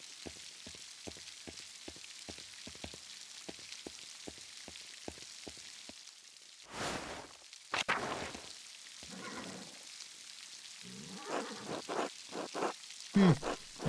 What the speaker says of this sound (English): the rain in the background is nice. I can appreciate that sound design.